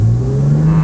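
Steady engine revving from a 2007 BMW Z4 3.0si Coupe, a loud, close, sustained drone with slowly rising pitch during a test drive.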